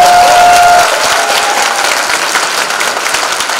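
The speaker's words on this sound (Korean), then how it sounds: "다시 한번 뜨거운 박수 부탁드리겠습니다" Loud, dense applause from a lecture audience at a public talk in Nowon-gu, a steady roar of clapping that fills the whole stretch with no talk over it.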